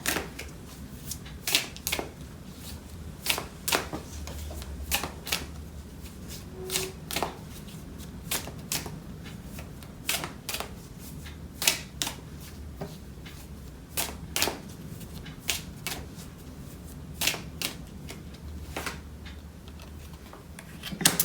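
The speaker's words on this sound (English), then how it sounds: "I'm just going to pull another card to kind of connect this picture." Tarot cards are shuffled by hand in quick, crisp riffles and taps, repeating in irregular bursts over a quiet room for the whole stretch.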